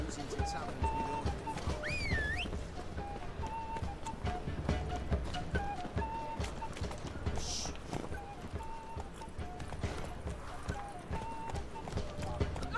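Roach, Geralt's horse in The Witcher 3, gallops with a steady stream of clip-clopping hooves up front, kept up the whole time under game music and people talking.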